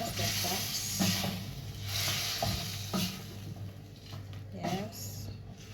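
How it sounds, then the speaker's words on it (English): Chicken stew being stirred slowly in a pot, a soft scraping swish repeating every second or so over a low simmering sizzle, with a person talking throughout. "Just going to mix that up slowly."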